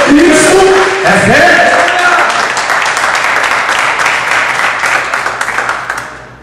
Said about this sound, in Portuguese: Então aplauda o Senhor aí, aplauda o Senhor.